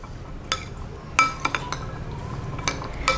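A spoon tosses a mixed vegetable salad with ground roasted flax seed in a bowl, giving scattered light clinks and scrapes of utensil against dish, close and sparse.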